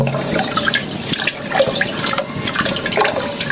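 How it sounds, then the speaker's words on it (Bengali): Tap water runs steadily into a sink as rice is rinsed at home, a continuous splashing flow with small drips and clinks, fairly close and with no talking. "আমাকে চালটা ধুয়ে নিতে হচ্ছে"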